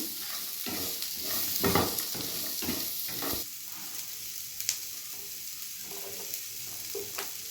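Ingredients for kaju paneer gravy being sautéed in a pan, a steady sizzle under repeated scraping and stirring strokes, loud and close, with no voices.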